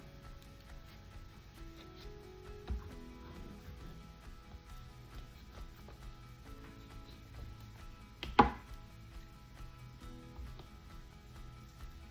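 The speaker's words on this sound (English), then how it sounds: "I'm gonna get these avocados cut open." A knife cutting open ripe avocados for guacamole in a home kitchen, with soft scraping and slicing and a couple of sharp clacks against a cutting board, fairly quiet and close.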